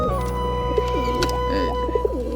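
Pigeons coo in a home pigeon loft holding several caged pairs and young birds, soft repeated throaty coos rising over a steady low hum, with a person talking in between.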